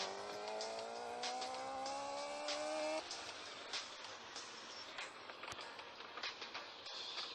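A revving Mustang engine with rising pitch in the racing game Block City Wars, shifting after a few seconds into a steady roar with tire and road noise.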